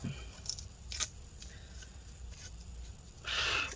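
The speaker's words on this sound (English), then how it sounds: "I'm gonna grab the old battery here, and I'm gonna peel that sticker up" Adhesive sticker peeled up from the old battery of a 15-inch 2012 MacBook Pro Retina A1398: a few faint ticks and taps, then a brief, brighter crackling rip near the end, close and quiet, with no talking.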